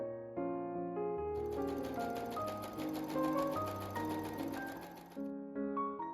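Sewing machine stitching a skirt waistband, a fast steady mechanical whir of needle strokes that runs in several short bursts, close and clear with no speech.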